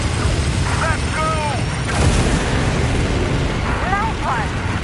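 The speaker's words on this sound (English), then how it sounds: "The main cannon is almost ready to be fired again" Main cannon firing in the video game Death Stranding 2, a loud continuous roaring blast with heavy low rumble, mixed with chirping squeals and other game effects.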